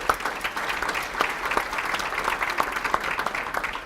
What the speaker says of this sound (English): we're going to give you a little bit of applause.